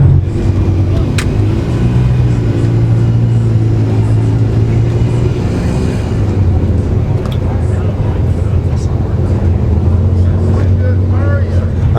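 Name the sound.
propane-fuelled Jeep engine running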